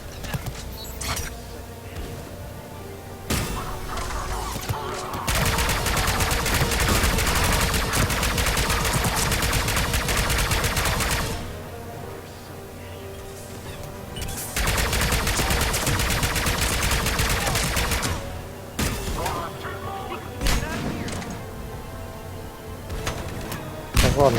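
Sustained bursts of rapid gunfire from the video game Mass Effect 3, loud and dense, coming in long volleys broken by short quieter lulls.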